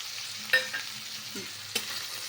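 Ivy gourd (tondli) frying in oil in a pan with masala being added, a soft steady sizzle with a couple of sharp stirring clanks, close and alone.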